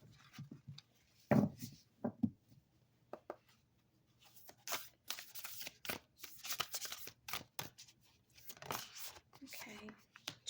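Oracle cards from the Sacred Destiny Oracle deck being shuffled for a Sagittarius reading, a run of dry riffling and flicking bursts through most of the stretch, fairly close and quiet, with soft talk now and then.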